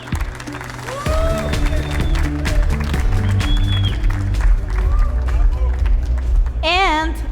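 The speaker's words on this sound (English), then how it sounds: "let's hear a clap for Mythical Invitational Champion, Andrea M" Applause rises from a watch-party audience at a Magic: The Gathering Pro Tour event in Barcelona, a dense clatter of clapping and crowd noise under an amplified host voice and whoops.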